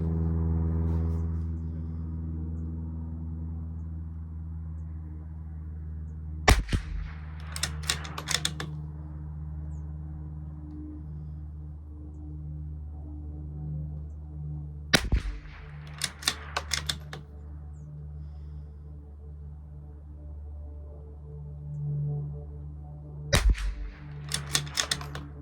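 A Bergara B14R rifle fires during long-range ammo testing. Three sharp, loud shots come roughly eight seconds apart, each followed by a short clatter of mechanical clicks, over a steady low background hum.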